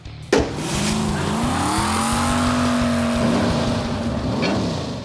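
A GMC mud racer with a 588 big block engine fires up and drives off, a loud close roar that holds steady and rises through the gears for several seconds.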